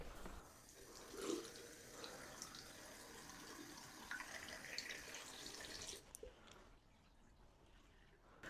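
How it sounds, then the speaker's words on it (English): Water runs from a sink tap and drains away after a blockage has been cleared, a steady close splashing wash that stops abruptly near the end, leaving quieter room tone. "it's time to do a quick test on the sink to see if the water's draining properly."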